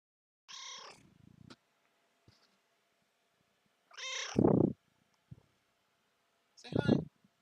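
A pet cat gives short chirping meows and soft trill-like calls in three separate close bursts with quiet gaps between.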